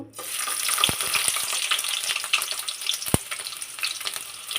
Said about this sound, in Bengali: তেলটা গরম হয়ে গেছে এখন পেঁয়াজগুলো দিয়ে দিব